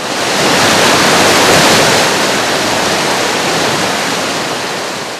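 Loud, broad rushing water roars without a break as a river cuts away a road and veers off its course, with a steady wash of noise that swells and slowly eases.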